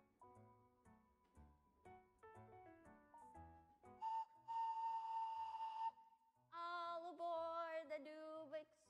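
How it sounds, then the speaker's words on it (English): A whistle blown to open a livestream, with two long, loud, steady blasts, the second held with a wavering pitch, after a few seconds of quieter tonal sounds. "My plan is to use my whistle to signal, one, the start of the stream"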